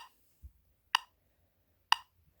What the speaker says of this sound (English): I'm going to set the metronome at 62 beats per minute.